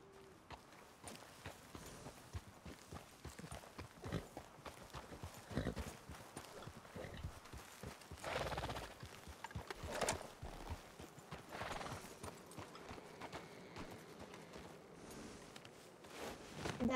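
Horse hooves clip-clop steadily in Red Dead Redemption RedM roleplay, set in snowy country, a continuous walking rhythm close by through the whole stretch, with occasional louder thuds.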